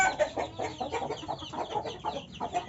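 A neighbour's chicken clucks in a steady run of short, close calls throughout, with no talk over it.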